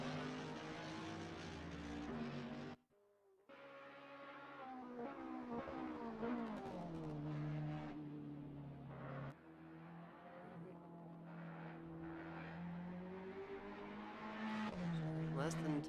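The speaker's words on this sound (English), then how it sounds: "Mercedes just pulling away from the BMW at a hefty rate." Mercedes and BMW GT race cars in a racing video game, GT3/GT4 endurance event, with engines droning and shifting through gears in sustained rising and falling tones, a commentator talking over the continuous engine noise.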